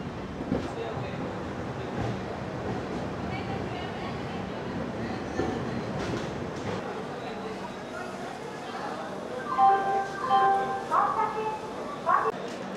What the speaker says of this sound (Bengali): আর খড়গপুরের ট্রেন ঢোকার পরে ট্রেন গিয়ে দাঁড়াতে দাঁড়াতে 3 মিনিট হয়ে যায়।